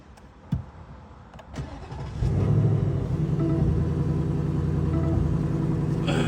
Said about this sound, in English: we are finally going to change this exhaust because it's so quiet, bro